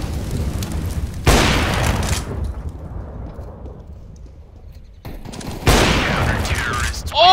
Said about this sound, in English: I just randomly shot through the fucking wall in A main and got a wallbang headshot